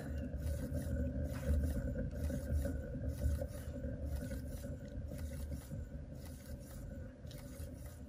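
An acrylic pour painting is spun on a turntable, giving a steady, continuous mechanical whir and low rumble that holds at an even level close by for the whole stretch.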